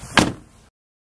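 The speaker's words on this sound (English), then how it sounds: "To make the sound of a car door closing, you would close a car door." A car door swung shut with one sharp, loud thud near the start, a short resonant decay and a faint hiss fading out behind it.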